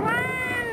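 A cat meows in a single sustained, close, loud cry with harmonics during a night fight with a 5–6-year-old leopard in a village well near Nashik.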